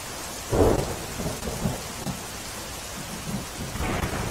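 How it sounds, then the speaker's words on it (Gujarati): Rain falls steadily in Navsari district after a long dry spell, with a burst of thunder rumbling early on and low rolls returning near the end, over a constant wash of rainfall. "નવસારી જિલ્લામાં લાંબા વિરામ બાદ ફરી એક વખત વરસાદ શરૂ થયો।"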